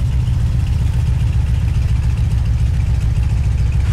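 Stearman tail-dragger biplane engine in the Microsoft Flight game, taxiing on the ground: a steady, loud low-pitched radial drone with a rhythmic, throbbing idle, no voices.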